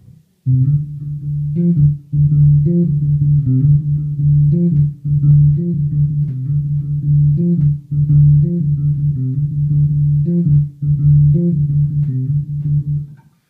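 A bass guitar plays a steady, repeating low riff, plucked notes in an even rhythm, close and loud, with no voices.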